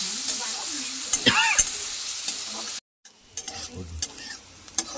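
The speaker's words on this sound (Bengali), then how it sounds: "এক উচ্ছে ভাজি সর্ষের তেলের মধ্যে আলু আর উচ্ছে সরু সরু করে কেটে ভাজা করছি" Thin-cut bitter gourd and potato strips with chopped green chillies frying in mustard oil, a steady loud sizzle with a few stirring scrapes, briefly cutting out before resuming.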